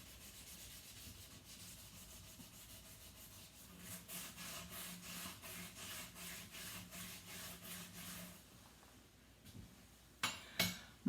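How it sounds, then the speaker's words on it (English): A sponge scrubs a very dirty sink and the ring around its drain with a steady, close rubbing rhythm that grows louder midway, followed by a few sharp knocks near the end. "I'm going to scrub that especially."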